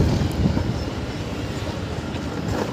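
Loud, low rumbling roar of a train rolling past nearby at a railway level crossing, a continuous heavy rattle with no voices.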